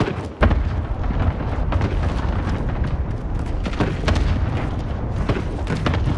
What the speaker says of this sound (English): Target's here for airstrike. Airstrike's good. Cluster strike.